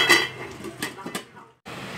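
Pork sinigang with kangkong being stirred in a pot, giving a few close clinks and scrapes of a utensil against metal over about a second and a half, then a quiet stretch of steady background.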